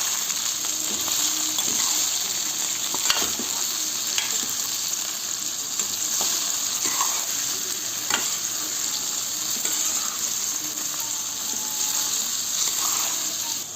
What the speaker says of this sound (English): we're going to let it fry now